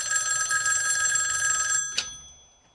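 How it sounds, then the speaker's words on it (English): A Commodore-branded rotary telephone rings with a loud, bright, continuous bell trill, then goes quiet near the end with a faint after-tick. "Let's answer the Commodore phone."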